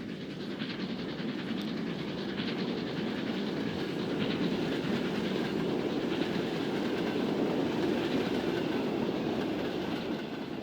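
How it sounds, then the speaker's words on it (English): A steam train runs in the Transport Fever 2 video game, a steady rolling rumble with faint rhythmic clickety-clack of wheels on rails, continuous and moderately loud with no talking. "London to Ipswich boat train."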